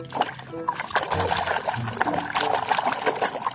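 A small toy iguana, yellow with a long tail, is washed in water, with trickling, dribbling and light splashing close by.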